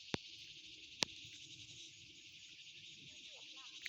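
Cicadas shrill in a steady, continuous drone through an evening garden with tall fruit trees, holding loud and even from start to end, with two sharp clicks near the start and a low voice murmuring faintly underneath.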